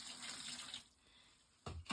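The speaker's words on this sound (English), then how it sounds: "going to add about a half a cup of water" Water pours steadily for under a second into a pail for mixing drywall mud, pauses, then a short burst of splashing pouring resumes near the end; quiet and close.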